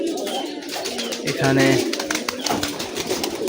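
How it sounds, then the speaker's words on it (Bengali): Morning pigeons freshly let out of their loft coo together in a busy chorus overhead, with someone speaking briefly over the calls. "তো আপনাকে কবুতরের ডাকগুলো দেখাবো।"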